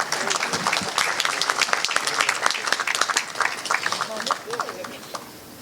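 Loud, dense applause from a large audience welcoming a deputy chief minister at a doctors' felicitation event, many hands clapping together close and steady, tapering off slightly near the end.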